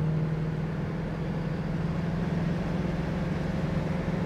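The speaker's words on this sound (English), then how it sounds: "Tranny shifts nicely in the car." A 1969 Mercury Cougar with an automatic transmission cruises along, its steady low engine drone and road rumble holding constant up close with no sharp shift break evident.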